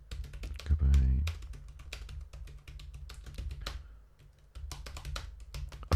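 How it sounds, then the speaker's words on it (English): Someone types on a computer keyboard, producing rapid, irregular key clicks close by over a low steady hum, with brief pauses and one heavier thump near the start. "Apologies for my old typing."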